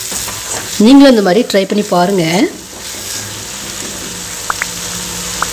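Egg masala sauce simmers in a pan, giving a soft, steady sizzle and bubbling. The cooking sound is mostly covered by a person talking at first, then carries on alone.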